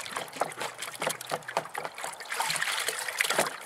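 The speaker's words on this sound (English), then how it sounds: "I'll put it in my other bucket here and swish it around a bit," A deer skull is swished back and forth in a bucket of water, giving soft, close sloshing and trickling splashes in irregular bursts at low volume.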